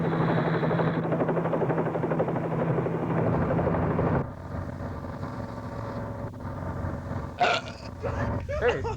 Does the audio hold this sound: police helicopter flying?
yes